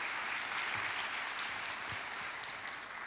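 Audience applause at a forum with an Indonesian minister, a soft, steady patter of clapping heard at a distance.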